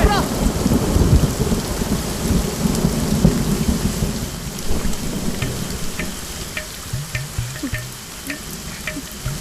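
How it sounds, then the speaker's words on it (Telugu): A rain effect in a film scene: steady heavy rain patters on surfaces and low thunder rumbles beneath it, easing slightly toward the end. "రెయిన్ ఎఫెక్ట్ చూసావుగా."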